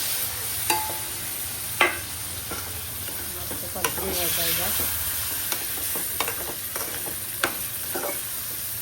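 Vam fish (eel) goes into a pan for a fish curry, giving a steady soft sizzle with occasional clinks and stirring knocks, close and without talk.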